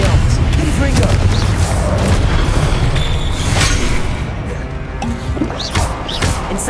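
Loud booming explosions from Confringo spell blasts in the video game Hogwarts Legacy, several heavy impacts with crashing thwacks, dense at first and easing slightly toward the end.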